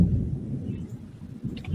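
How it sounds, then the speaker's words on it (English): Low rolling thunder rumbles at a distance during an evening storm, a soft continuous grumble with a slight swell near the end. "That's the thunder."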